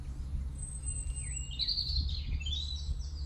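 Birds sing in a village garden in spring, including a robin, blackbird and pigeon, with high warbling phrases rising and falling over a steady low outdoor hum.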